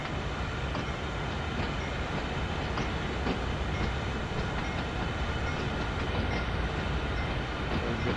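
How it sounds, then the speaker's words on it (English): A train rolls past on the Boston–Worcester line in Train Sim World 5, with CSX freight switching at Framingham: a steady, unbroken rumble with faint rhythmic wheel clicks, loud and close the whole time. "you gotta wait for the train to pass"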